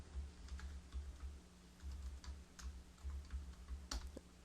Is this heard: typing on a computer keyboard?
yes